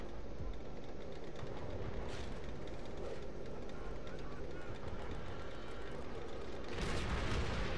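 Tank battle in World at War, with rolling engine rumble and scattered gunfire and blasts, ending in a louder burst of fire, all under a person talking excitedly.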